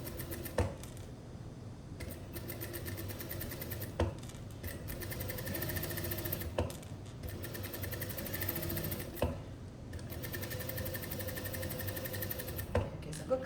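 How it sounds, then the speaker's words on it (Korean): Sewing machine stitching a V-neck summer dress, runs of fast rhythmic needle clatter broken by brief pauses and clicks, close and steady with no talk. "이렇게 해서 끝까지 스티치 박아줬어요"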